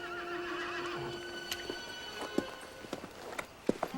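A riderless horse whinnies loudly, then approaches with sharp, irregular hoof clops that grow more distinct toward the end.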